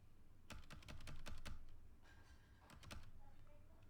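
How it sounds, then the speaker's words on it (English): Keys and the spacebar of a Fnatic Ministreak mechanical keyboard pressed close to a microphone, a quick run of soft, muted clicks followed by a pause and a second short burst, fairly quiet overall. "So you can see just the spacebar itself, it's a lot quieter, and overall even the other keys are a lot quieter."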